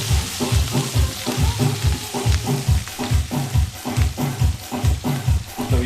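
Onion, garlic and pepper sizzle and fry in a pot, with a loud close hiss and a steady rhythmic scraping as they are stirred throughout.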